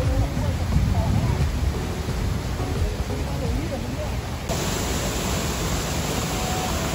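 Steady broadband rush of the Sonador river near Yásica, Puerto Plata, at the Charco de la Paila pool, a continuous close roar of flowing water filling the whole stretch without a break.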